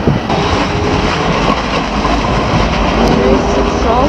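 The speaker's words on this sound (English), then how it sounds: "There's a tram which is waiting at Central tram stop." A Croydon tram waits at Central tram stop beside a shopping centre, giving a steady low rumble and hum with faint higher whine, continuous and moderately loud against a busy street background.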